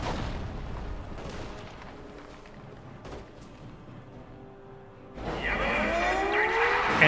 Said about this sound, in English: Howitzers raining on in that point.